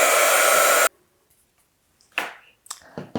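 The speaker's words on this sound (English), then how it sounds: "So I have my heat tool here, and I'm actually going to, well, I'll heat it up, but it's going to get a little loud." A crafting heat tool blows hot air in a loud, steady broadband rush for just under a second, then cuts off, leaving near silence broken by a few faint clicks and handling noises.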